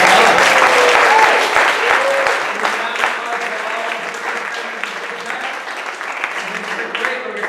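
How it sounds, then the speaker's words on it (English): A live audience at a SermonSLAM storytelling event in Pittsburgh breaks into loud, sustained applause after judges announce scores, the dense clapping fading slightly but continuing throughout. "another round of applause"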